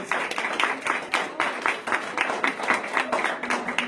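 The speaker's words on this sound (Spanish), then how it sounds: "Denle un aplauso a Dios, hermano." A church congregation applauding, a dense patter of many hands clapping steadily throughout, moderately loud and fairly close.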